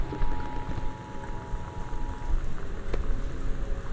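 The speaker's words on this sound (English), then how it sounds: "The Northwest Weather Service reports high winds and torrential rain conditions affecting the following." A storm with high winds and torrential rain in the video game Gone Home makes a dense, steady roar of rain and wind that stays loud and continuous throughout.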